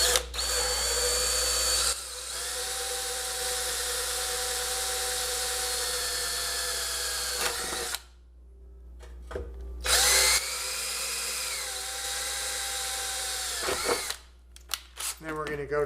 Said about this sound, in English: I'm going to go to a slightly larger bit here and chase through.